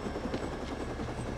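A helicopter engine idles grounded in fog, a steady low rotor rumble and chop with a faint high whine, continuous and moderately loud, with no voices.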